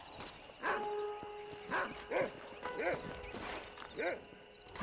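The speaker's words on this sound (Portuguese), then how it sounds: "Quem é que é o cão que está aqui?" Dog barking in the Red Dead Redemption western game, about five sharp barks spaced at a steady rhythm, fairly close, over a low game ambience with faint background tones.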